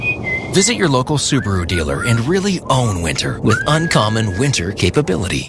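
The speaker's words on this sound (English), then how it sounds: "that sound is our confident driver whistling Beethoven's Fifth" A man whistles Beethoven's Fifth in a Subaru radio ad: brief, thin whistled tones come and go beneath a continuous, close announcer voice that dominates throughout.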